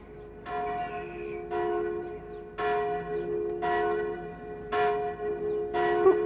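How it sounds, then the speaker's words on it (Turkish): A village church bell tolls in slow, evenly spaced strokes, five or six clear ringing hits with long humming decays overlapping, moderately distant and alone without voices. "Bu köy kilisesinin çanı."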